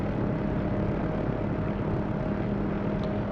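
An OH-6A helicopter in a flight simulator sits at flight idle, giving off a steady, continuous engine drone with a low rotor hum and a faint higher whine that holds constant throughout.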